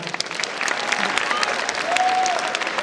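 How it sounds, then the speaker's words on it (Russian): Audience at a student faculty competition, the 2014 Battle of the Faculties, applauding steadily for about three seconds, a dense wash of close and distant hand claps that builds slightly and holds, with faint voices and a whistle in the crowd. "Давайте немножко заведемся и похлопаем этому"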